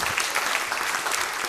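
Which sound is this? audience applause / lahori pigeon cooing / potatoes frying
audience applause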